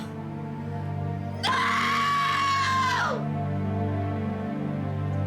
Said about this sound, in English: That is definitely a scream that will live in my head forever.